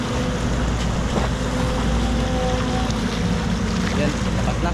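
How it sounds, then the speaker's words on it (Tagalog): A strong river current rushes over shallow gravel, a dense, loud, unbroken roar of flowing water with wind buffeting the microphone throughout. "Lumakas na yung agos ng tubig"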